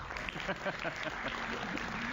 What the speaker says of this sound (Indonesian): itulah tepuk tangan juga untuk iNews